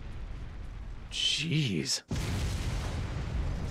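Cannons fire in the video game Asura's Wrath, booming blasts and rumbling impacts under game music and effects, with a brief voice reacting over the barrage.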